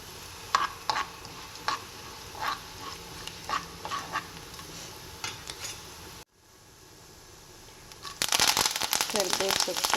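Two spoons of coriander seeds and a spoon of cumin are roasted in hot oil, with rhythmic clicks of a spoon stirring, then a brief lull before a loud, bright sizzle bursts up.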